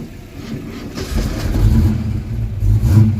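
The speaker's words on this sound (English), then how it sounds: "I'm going to jump start it and see how everything works" Ford Mustang engine catching and idling roughly after a jump start, a low close rumble that swells unevenly with slight revving and never settles fully.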